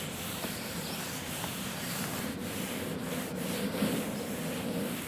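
A Klymit Static V ultralight sleeping pad rubs against a surface, heard close up as a steady, soft, continuous scraping hiss with no pauses.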